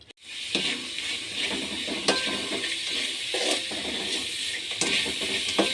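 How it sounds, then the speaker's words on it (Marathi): Vermicelli is sautéed in a pan with chili powder, turmeric, garam masala and salt, making a continuous close sizzle broken by regular clinks and scrapes of a utensil stirring against the pan. "आपल्याला परत हे छानपैकी असं परतून घ्यायचं आहे"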